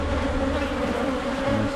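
A honey bee swarm hums steadily inside a hive four weeks after settling in, close and continuous with no breaks.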